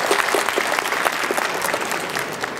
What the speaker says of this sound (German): Jetzt noch den Applaus für den Spielmannszug mit dem Transallmarsch.